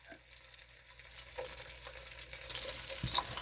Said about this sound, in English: You don't want to mess with it while it's doing that sear on the meat